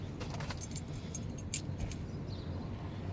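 Two new ignition keys for a 1989 Chevy jangle close by in a series of light metallic clinks over a low steady background hum.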